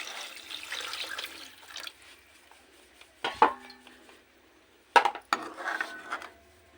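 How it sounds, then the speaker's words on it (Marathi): Water is poured into a pan of frying vegetable curry with oil in a home kitchen. A soft hiss and sizzle is followed by two sharp metallic clanks of a utensil against the pan, with quiet gaps between. "आता पाणी ओतायचं."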